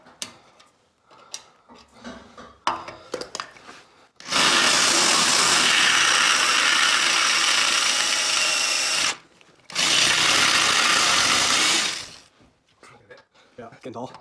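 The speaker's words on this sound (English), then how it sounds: "Drill it one more time." Power drill boring out rivets on a truck frame, two long loud sustained bursts of whining drilling separated by a short pause, with shop clatter and brief talk before and after.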